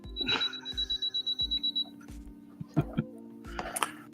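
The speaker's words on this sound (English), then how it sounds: "now we got the beeping from the sewing machine" A sewing machine beeps over and over in a rapid steady series of short tones, then more irregular clicks and beeps follow, fairly quiet against low background hum.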